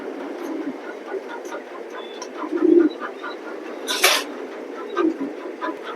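Red checker pigeons coo softly in a loft, low murmuring calls repeating over a steady background hum, with a brief brighter burst partway through.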